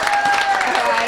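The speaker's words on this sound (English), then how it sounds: "Are you going to give me some applause?" A comedy club audience applauds steadily on a development night, a dense, even wash of clapping with a sustained tone running beneath it.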